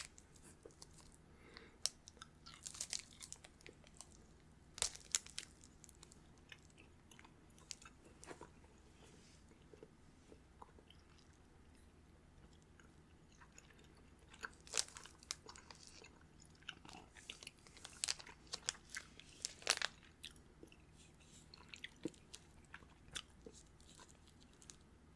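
Close, quiet chewing of a chewy, vivid neon-green candy from a Japanese snack box, soft wet mastication with scattered clicks and smacks continuing throughout without speech.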